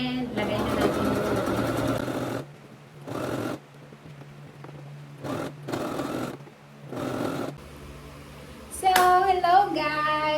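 Sewing machine stitching fabric for a homemade dog and cat house, running in several loud bursts of whirring with pauses between, while someone talks over it.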